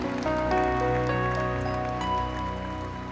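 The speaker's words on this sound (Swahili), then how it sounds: "Nitore ikige makofi mega." Congregation at a Kikuyu-language church service applauding, a dense continuous crackle of clapping that stays loud and close throughout, with music playing alongside it.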